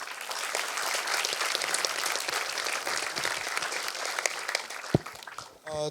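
An audience claps loudly and continuously at a Marathi one-act play competition event, dense applause filling the room close by before tapering off near the end.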